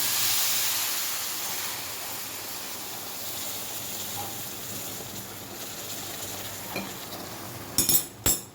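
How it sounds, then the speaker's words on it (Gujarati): Warm milk poured into roasted semolina in a hot pan while making rava sheera sets off a loud, steady sizzling hiss that slowly fades, ending with a few spoon clinks against the pan. "આપણે હવે એમાં દૂધ ઉમેરવાના છે"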